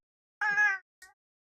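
A cat gives one clear, drawn-out meow followed a moment later by a short, softer chirp-like meow, close by in an otherwise quiet room.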